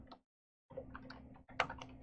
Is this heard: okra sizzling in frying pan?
no